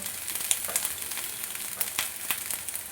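Rice frying in a hot pan for fried rice, a steady bright sizzle with small crackles and pops, close and continuous, no talking.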